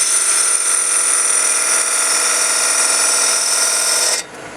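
Wood turning on a peppermill blank, likely with a 3/8 inch Ellsworth gouge by D-Way: a loud, steady, bright whirring scrape from the lathe that runs without a break for about four seconds, then cuts off abruptly.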